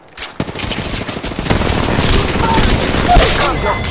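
Rapid automatic gunfire in a video game, dense bursts of shots rattling close and loud for several seconds with no pause.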